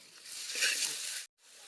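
Onion, ginger and garlic paste sizzles while frying in a pan, a steady hissing crackle that cuts off abruptly and then resumes more softly.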